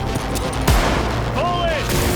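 Video game gunfire in Cyberpunk 2077: a sharp shot bursts out early amid dense battle noise, with voices and tonal sound effects layered over the busy combat mix.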